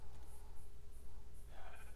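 Sheep bleating in the Minecraft video game, a soft, short bleat near the end over a low background hum, faint and brief with no talking.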